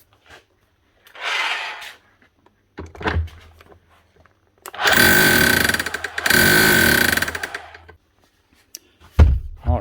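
A Makita HR3210C rotary hammer drill under repair runs in short bursts, then hammers loudly and close in two sustained stretches of rapid pounding, with a few brief clunks in between.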